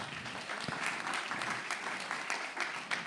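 Audience applause fills a conference hall on parasport, steady clapping from a sizeable crowd held at a moderate level throughout.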